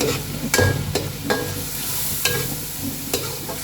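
Ground spice masala with whole cumin frying in a pan for egg pulao, a soft steady sizzle broken by sharp scraping clicks of a spoon stirring at irregular intervals, close up with no talk.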